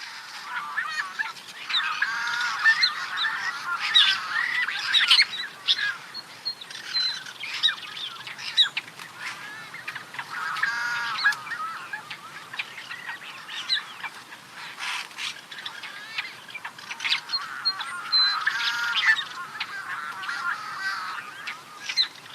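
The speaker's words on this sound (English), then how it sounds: "Their call is said to sound like a sick cat or a croaking frog." A bird calls repeatedly in rough, squawking bursts, a harsh nasal croak likened to a sick cat or a croaking frog, loud and close, coming in uneven clusters with brief gaps between them.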